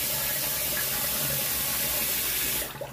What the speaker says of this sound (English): Let's get rinsed off. Drain the tank.